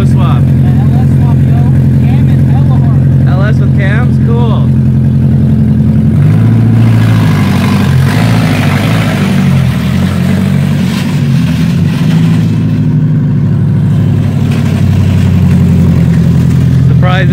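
A Nissan 240SX with an LS V8 swap, aggressive cams, headers and 3-inch catback exhaust idles with a deep, lumpy burble, then revs hard through the exhaust several times before settling back to a throaty idle.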